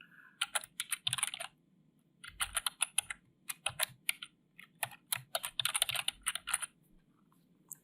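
Bursts of quick, close keystrokes on a computer keyboard entering a username and password, clicking in irregular clusters separated by short pauses, with no talking.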